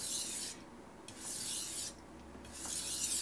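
Knife edge worked on a Shapton Pro whetstone while refining the bevel, a steady close rasping rub in three long strokes separated by brief pauses.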